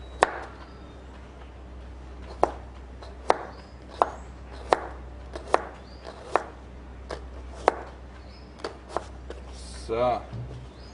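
A knife chops a carrot, skin left on, on a cutting board while cabbage rolls are prepared: about a dozen crisp, evenly spaced thuds, close and clear over quiet room tone.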